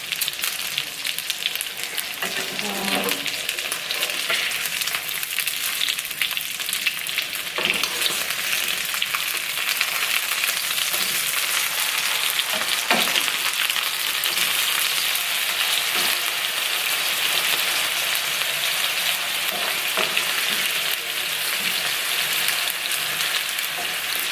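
Salmon fillet frying skin-side up in a pan after being flipped, a steady broadband sizzle running for the whole stretch with a few faint knocks and pops, close and alone with no talk.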